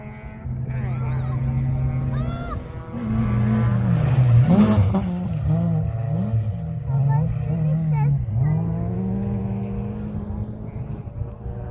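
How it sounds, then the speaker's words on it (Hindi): Race cars roar past at a car racing sport day in Germany, engines revving and droning steadily with rising and falling pitch, loud and continuous, while people talk over them. "जर्मनी में आज गाड़ियों की रेसिंग स्पोर्ट डे हो रहा है"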